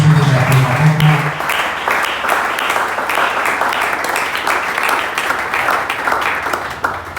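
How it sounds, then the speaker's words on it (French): A church congregation applauding, dense sustained clapping from many hands that begins loud and carries on steadily, tapering slightly toward the end. "On peut acclamer le Seigneur Jésus."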